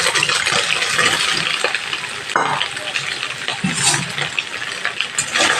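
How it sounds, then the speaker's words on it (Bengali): Soya chunks fry in hot mustard oil with a loud, continuous crackling sizzle, broken by stirring scrapes and one sharp clatter near the middle. "এখন এটা ভেজে নিচ্ছি"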